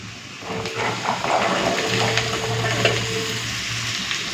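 Potatoes drop onto onions fried red in a pan, setting off a loud, steady sizzle close up with a few stirring scrapes, and no one talking.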